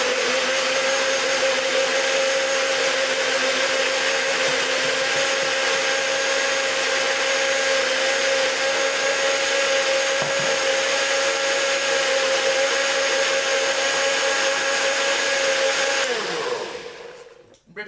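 A blender whirs steadily for about sixteen seconds while blending a beetroot smoothie, a loud constant motor drone that runs alone and then spins down abruptly at the end.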